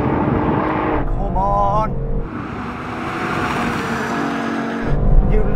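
A BMW M2 CS, an AMG A45 S and an Audi RS3 run a drag race, engines roaring loud and close with rising gear-change sweeps and a brief lull, while someone speaks excitedly over them.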